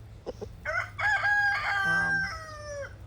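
Backyard hens of a gold-laced Wyandotte and leghorn mix make close, fairly quiet clucks and a short crow-like call, with a few sharp vocal bursts over soft background.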